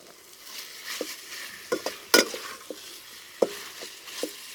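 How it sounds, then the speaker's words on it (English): Beef and pasta stir fry sizzles softly in a pan while being turned and stirred, with scattered scraping and clinking taps from the utensil. The cooking is quiet and close, with no voices. "just keep turning it, stirring it and frying it."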